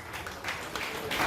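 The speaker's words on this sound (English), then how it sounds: "A round of applause for him," An audience at an award ceremony claps for an award recipient, a brief swell of dense, steady crowd applause heard at moderate volume.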